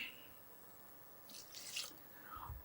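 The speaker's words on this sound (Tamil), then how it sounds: "இதில் தண்ணி ஊற்றுறோம்" Water pours and splashes briefly into a pot for a spicy coconut milk chicken soup, a soft, faint gush lasting about a second in an otherwise quiet room.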